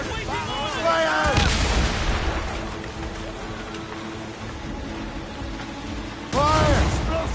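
Ship cannons in the video game Assassin's Creed Rogue on PS4 boom in heavy, rumbling volleys under continuous shouted voices and a dense battle din.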